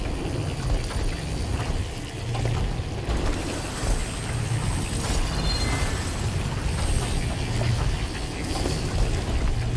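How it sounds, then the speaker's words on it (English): Rotating pillar gears grind in Horizon Forbidden West, a continuous heavy mechanical rumble with clanking, ratcheting texture, steady and loud without speech. "Looks like parts of those pillars are rotating."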